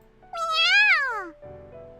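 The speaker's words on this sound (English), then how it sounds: "On my feet, Eru meows happily." Eru, a small cat in a visual novel game, gives a single long, happy meow that rises and then falls, over a soft steady background tone.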